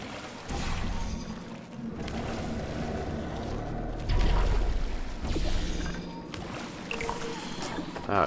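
Continuous rushing water flows steadily in the Portal 2 video game, with sloshing, splashing texture and a brief surge near the middle, while someone talks over it.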